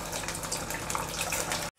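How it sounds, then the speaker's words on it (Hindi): Poha rolls deep-fry in hot oil in a kadai over a medium gas flame, giving a steady, close, hissing sizzle for under two seconds before it cuts off abruptly. "अब इसमें हम रोल को फ्राई करने के लिए तेल के अंदर डालेंगे।"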